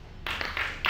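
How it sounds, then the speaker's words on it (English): Audience members at a symposium break into clapping, a brief burst of bright hand claps that starts abruptly, fairly close and moderately loud, with no voices over it. "Perhaps another clap?"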